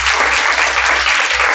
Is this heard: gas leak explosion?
no